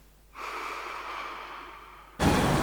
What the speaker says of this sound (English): Whether this is the sound of your breath,